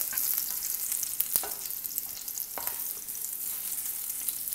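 Pineapple cooks in a pan for sweet and sour sauce, giving a steady, soft sizzle with occasional stirring scrapes and taps, close by and with no talking.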